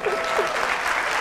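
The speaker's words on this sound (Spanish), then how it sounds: "Una ronda de aplausos." Short burst of crowd applause at a Spanish-language talk on product management and engineering, many hands clapping together in a brisk, steady roar that lasts the whole moment.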